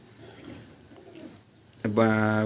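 A Giribaz pigeon gives a sudden loud close coo near the end, after quiet murmuring and background voices.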